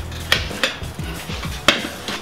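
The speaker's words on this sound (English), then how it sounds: "I'm gonna take my larger tire iron and just pry it over on one side" A motorcycle tire iron pries a tire bead with a foam mousse over a dirt bike rim, giving four sharp metallic clinks and scrapes spaced irregularly over a low background rumble.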